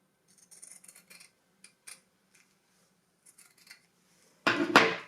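Scissors trim excess fabric while a blouse is being sewn: several quiet, close snips with pauses, then a louder crisp double cut right at the end.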